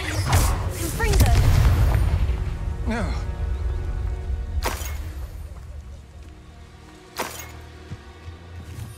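A Confringo explosive spell goes off in Hogwarts Legacy with a loud booming burst, followed by sharp cracking impacts and lingering rumble, with a couple of smaller blasts later.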